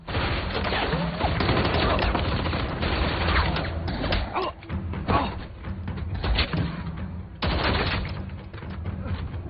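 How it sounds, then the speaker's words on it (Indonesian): Fierce gunfight in an action film, with dense, continuous bursts of gunfire and heavy thuds that pause briefly and then resume loudly near the end. "terjadilah baku tembak sengit"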